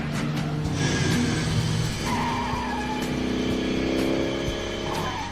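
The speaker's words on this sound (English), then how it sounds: "It's a car." A car engine roars continuously under tire squeal and skidding noise in a Knight Rider scene, loud and sustained with a rising, shifting pitch as it revs.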